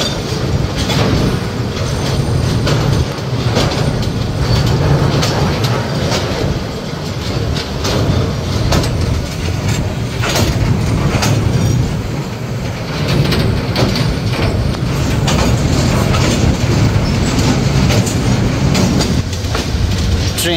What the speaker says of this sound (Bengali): ট্রেনটি বের হয়ে গেল তিস্তা নদীর ওপর নির্মিত রেলওয়ে ব্রিজ থেকে